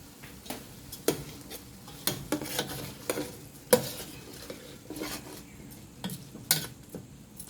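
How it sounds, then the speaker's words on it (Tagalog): Uncooked rice is stirred and sautéed in a pot while making Filipino arroz caldo, with irregular scraping and clinking of a spoon against the pot over a faint sizzle, close and without talk. "igigisa lang din natin siya ng ilang minuto"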